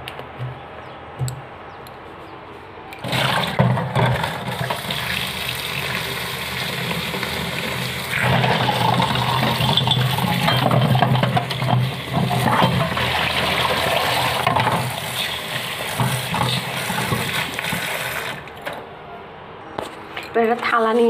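Peeled taro washed in clean water two or three times: water splashes and sloshes steadily in a bowl close by, with quieter handling noises before and after.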